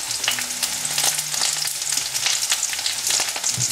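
Spice powders fry with prawns in a pan for Andhra-style prawn masala, a loud, dense crackling sizzle up close, dotted with soft stirring scrapes and no voices.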